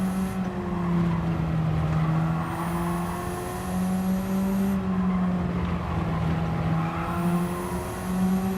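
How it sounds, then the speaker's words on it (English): Race car engine in Gran Turismo 7, sliding through corners on dirty tyres, a steady loud droning whine that rises and falls with gear changes, with faint tyre scrub under it. "Just sliding it through these corners to try and clean those tyres up."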